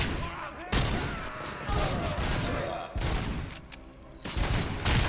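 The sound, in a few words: gunfire from RoboCop's gun in video game RoboCop: Rogue City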